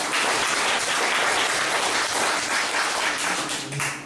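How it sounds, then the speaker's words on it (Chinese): An indoor audience gives dense, sustained applause welcoming two speakers, a steady wash of many hands clapping close by that fades slightly at the end. "我们现在是不是先掌声欢迎他们两位？"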